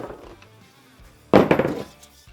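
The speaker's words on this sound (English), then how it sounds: "I want to take a sledgehammer to it and see how strong these truly are" A hammer strikes an aluminium radiator from an RM250 motorcycle once, a loud, sharp metallic impact that rings briefly and then fades, with quieter handling noise before it.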